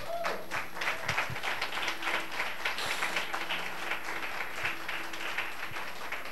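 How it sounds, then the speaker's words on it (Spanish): A church congregation applauds during a sermon, moderate scattered clapping with some sharper individual claps and faint voices underneath, continuing for several seconds at a middling distance. "Denle un aplauso al Señor por eso."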